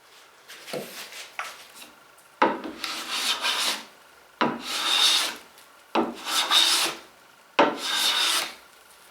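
A hand plane smoothing an oak board, five rhythmic rasping shaving strokes, each about a second long with short pauses between, close and clear with no talk.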